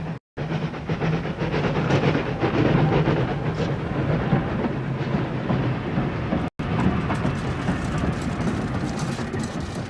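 A heavy, continuous low rumble of a train rolling past nearby, loud and steady throughout with a rattling texture.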